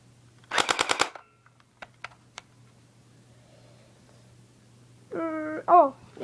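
A Double Eagle G36C airsoft rifle fires a short fully automatic burst of rapid, evenly spaced shots, followed by a few isolated single pops. A voice is heard near the end.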